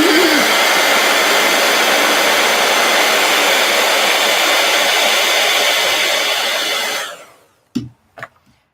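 A heat gun blows loudly and steadily at close range, a dense roaring hiss that runs for about seven seconds, then cuts off, leaving a couple of faint knocks.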